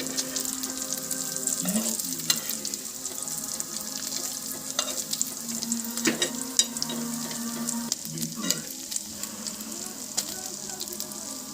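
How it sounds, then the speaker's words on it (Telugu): Fish pieces frying in oil as they are stirred slowly to keep them from sticking, a steady sizzle broken by scraping spoon strokes against the pan. "ఈ చేప ముక్కలు అడుగంటకుండా ఈ విధంగా నెమ్మదిగా కలుపుతూ ఉండాలి"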